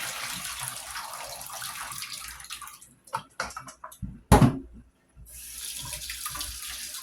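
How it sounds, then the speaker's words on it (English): A kitchen tap runs water steadily while food is prepared, the broad hiss cutting out midway for a few clattering handling sounds and a louder splash before the running water resumes, with no talking. "We'll run some water on there."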